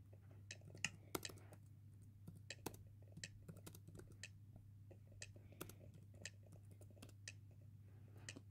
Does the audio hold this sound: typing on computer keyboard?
yes